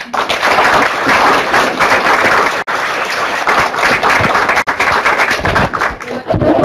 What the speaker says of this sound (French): j'aimerais que vous vous joigniez à moi pour l'applaudir chaleureusement